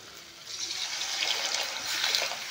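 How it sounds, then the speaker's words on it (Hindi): Water pours from a vessel into a fish curry sizzling in a wok, a continuous close splashing and hissing rush that swells slightly over a couple of seconds with no talking. "तो हम इसमें डाल देते हैं पानी"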